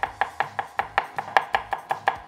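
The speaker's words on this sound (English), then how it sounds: "To mince it fine, I like to cut at 45 degrees on both sides before eventually cutting" A kitchen knife chops and minces scallion on a cutting board for prawn paste, a steady run of a dozen sharp, close taps in quick, even rhythm without talk.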